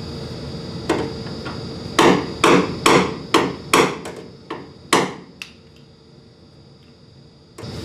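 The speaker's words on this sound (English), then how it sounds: "This part here only needs a little tap with a hammer to line it up right." A hammer taps a metal body panel on a 1929 AV8 coupe about ten times in an irregular sequence, sharp ringing taps close up, then a pause before one more hit.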